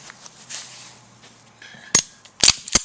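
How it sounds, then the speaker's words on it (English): The magazine comes out of a Colt Government Model 1911 .45 ACP pistol: soft handling rustles, then a few sharp metallic clicks and clacks close up near the end. "We're gonna take out the magazine"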